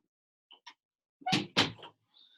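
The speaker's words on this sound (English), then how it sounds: "One second, I'm going to close this door." An indoor door being shut: a couple of light taps, then two firm clunks as it swings closed and latches, with quiet room tone around it.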